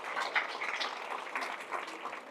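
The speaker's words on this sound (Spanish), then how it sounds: "Fuertes aplausos a nuestro Dios" A church congregation applauds, a dense patter of clapping hands spread evenly and moderately loud for a couple of seconds in a worship service.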